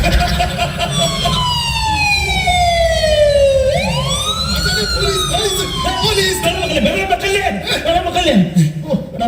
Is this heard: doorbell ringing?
no